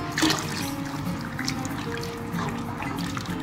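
Cornflour slurry pours steadily into a pot of chicken corn soup, making a close, continuous trickling sound with faint clinks from stirring.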